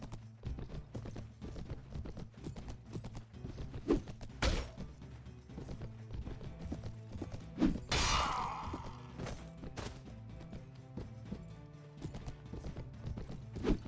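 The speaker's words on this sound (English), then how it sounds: "My horse is so slow because it's so hurt." Horse hooves clip-clop steadily through a busy Mount & Blade: Warband battle, the mount running wounded and slowed, with a sharp crash near the middle and constant game clatter around it.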